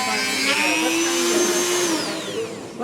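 A drill fitted with a carbide burr carving old, dry, hard wood, giving a loud, close, steady whine whose pitch rises and falls as it cuts, with a voice talking over it.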